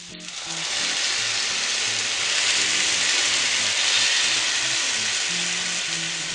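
Vegetables simmer and fry in a pan after tomato juice is poured in, giving a continuous, moderately loud hiss and bubbling sizzle with no talk.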